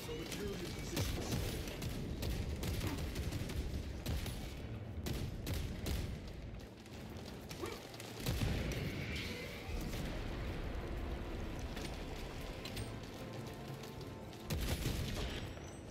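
Dense gunfire and explosions from the video game Space Marine 2, rapid bursts and booms layered into a continuous loud barrage with no clear pauses.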